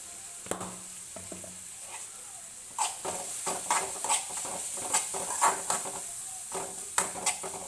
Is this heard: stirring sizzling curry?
yes